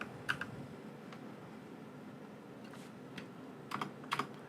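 Quiet keystrokes on a computer keyboard come in a few sparse clusters, with a couple of isolated taps and a quick double burst near the end, over a faint steady room hiss.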